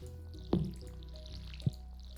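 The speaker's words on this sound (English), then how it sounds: "And we are just watering." Watering crops with a watering can in the farming video game Stardew Valley gives two short, soft water splash blips over a steady low background.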